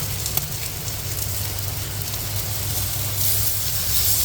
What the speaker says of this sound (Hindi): हल्का सा ऑयल डालें, उसमें ये मसाला अच्छी तरह भून लें।